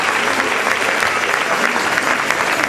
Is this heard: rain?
no